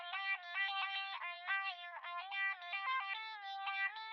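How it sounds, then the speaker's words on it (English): Processed vocal chop with mixer effects repeats short, bright, pitched syllables in a quick choppy rhythm, thin and airy with no low end, playing alone as a background musical element. "But once we put it into the mixer and add all the effects, we get the final vocal chop sound"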